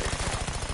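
Rapid enemy gunfire in the Mafia III video game, a steady loud automatic stream of shots pulsing evenly through the short moment, with no voices.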